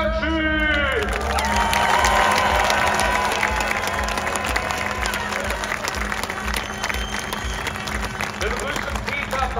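A large outdoor crowd applauds and cheers at the Moto3 winner's podium ceremony at the Sachsenring MotoGP round, a steady dense wash of clapping and whoops that stays loud throughout with an announcer's voice carrying over it.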